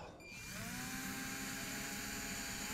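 A small cordless Craftsman drill's motor spins up and whirs steadily at a high pitch, close and continuous for a few seconds.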